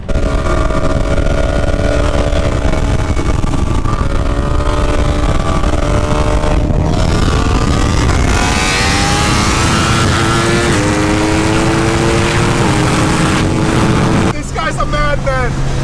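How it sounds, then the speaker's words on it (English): Supercharged Dodge Viper making 1,018 wheel horsepower runs on a freeway against a modified Yamaha R1; loud blower whine and exhaust climb through rising gear sweeps, a shift near the middle, then a sharp high-pitched engine scream near the end. "we're gonna get some runs with that R1 that I can hear from behind me over the tone of my blower and my exhaust"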